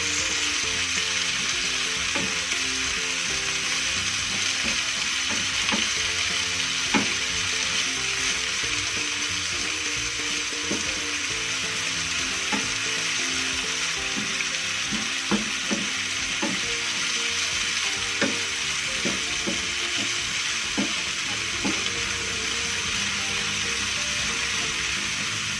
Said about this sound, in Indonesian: Kemudian kita tumis sampai dengan matang.